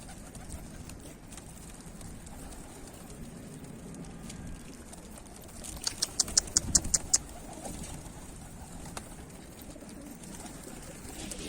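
Pigeons in a pigeon loft give a low soft cooing over a steady background hiss, with a brief run of sharp rapid chirps or wing claps near the middle, fairly distant and without talk.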